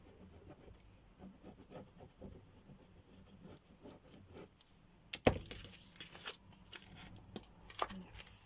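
Rubbing and scraping of a burnishing tool along the paper edge of a handmade miniature journal cover, soft and close with irregular strokes, then a sharp crisp crinkle and brisker rubbing in the second half.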